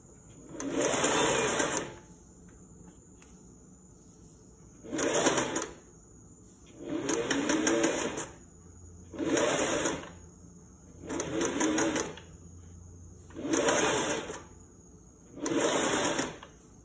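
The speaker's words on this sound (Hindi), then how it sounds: "मैं इस पाइपिंग को ऐसे लाइन पर रखती जाऊँगी ऐसे और सिलाई लगाती जाऊँगी" Sewing machine stitching piping onto a neckline, seven close, loud bursts of rapid whirring stitching, each lasting one to two seconds, separated by short pauses.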